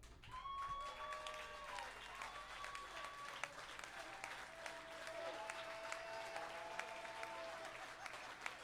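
Steady audience applause fills the whole stretch, a dense wash of clapping from a large crowd with occasional louder claps and whoops rising above it.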